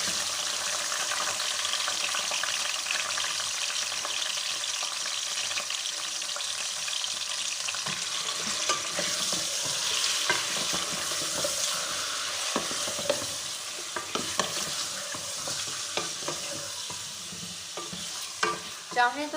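One kilo of chicken fries in a pot for chicken korma, sizzling steadily while a utensil stirs it with frequent scraping and clinks, close and continuous with no talking.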